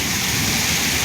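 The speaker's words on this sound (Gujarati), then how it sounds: "જો ચાલુ વરસાદમાં કામ કરીએ છીએ." Rain falling steadily in Ahmedabad, a dense close hiss of drops with no break, heard alone for about a second.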